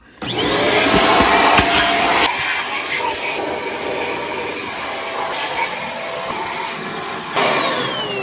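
A loud vacuum cleaner starts up and runs continuously with a steady whine, its pitch shifting slightly as it moves, close by.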